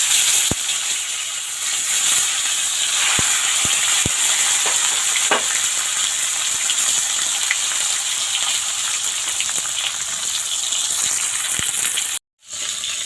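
Paturi pieces frying in a pan, a steady hiss and crackle of hot oil throughout with scattered sharp pops and spits, near and continuous, briefly cutting out just before the end.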